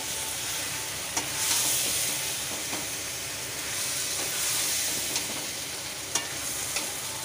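Spiced paste of ground coriander, cumin and chickpeas being stirred into frying jackfruit for a vegetarian curry, a steady close sizzle with periodic scraping stirs and small clatters of the spoon against the pan, no talking.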